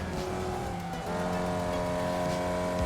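Formula Vee race car engine in the iRacing game at Laguna Seca, a steady buzzing drone with pitch shifting as revs change, loud and continuous throughout with no talk.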